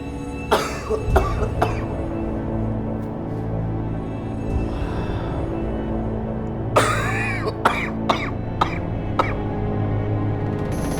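A man coughs several times in sharp, separate bursts over steady indoor background noise, with a clear pause between the first group of coughs and the later ones.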